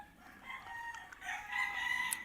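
Chickens cluck and call nearby in short, overlapping vocalizations, fairly faint against a soft background, with no talking.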